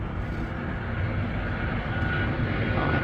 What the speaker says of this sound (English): Southwest Airline 7421. Coming in for a landing.